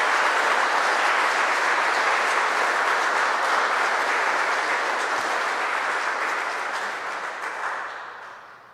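A church congregation at Sunday Mass breaks into loud, dense, sustained applause that holds steady for several seconds before fading out at the end, with no talking over it.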